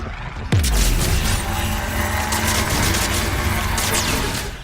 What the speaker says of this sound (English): You just wander around and you shoot cubes with a gun.